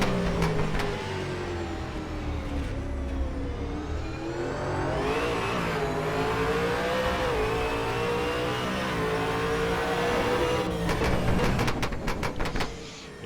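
An onboard race car engine at a pre-season test, pulling through the final corner with the revs rising and falling in sweeping pitch, close and loud, with sharp crackles near the end.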